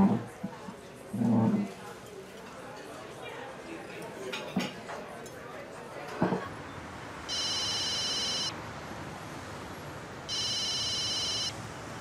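A telephone ringing on an outgoing call: two bursts of electronic ring tone about a second long, separated by a pause, come after some brief movement sounds and a voice.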